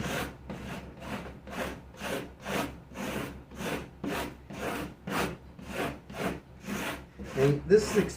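An agave leaf is scraped with steady back-and-forth strokes to expose its fine white fibers. About a dozen rhythmic, rasping strokes sound close by, evenly spaced, with no talking.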